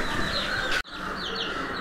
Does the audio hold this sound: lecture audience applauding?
no